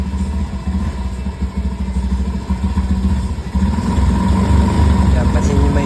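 A Honda Beat Fi V2 scooter with a faulty throttle position sensor idles close by, its engine sputtering and stumbling in a rough, uneven chug that grows louder after a brief blip of the throttle.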